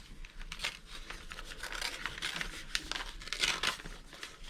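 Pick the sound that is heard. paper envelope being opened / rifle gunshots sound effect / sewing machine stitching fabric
paper envelope being opened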